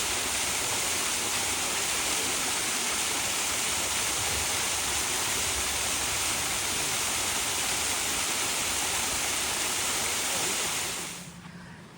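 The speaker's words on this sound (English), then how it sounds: "Short little walk to those waterfalls, definitely worth it." Loud, steady rush of a man-made waterfall at Rainbow Springs, broadband roar filling the whole clip before cutting off abruptly near the end.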